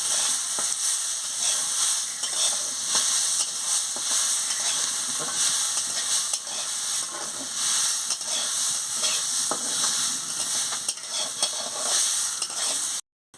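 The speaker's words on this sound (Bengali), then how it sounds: "ভালো করে একটু ডালটাকে ভেজে নিচ্ছি" Washed lentils frying in hot oil in a pan for a kalmi shak dal, a continuous bright sizzle and hiss with faint stirring scrapes throughout, then an abrupt cut to silence at the very end, with no voices.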